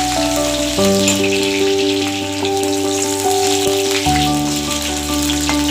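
Finely chopped garlic frying in a pan for a mixed leafy-vegetable bhaji: a loud, steady, crackling sizzle close up, with sustained musical tones running underneath and no talking.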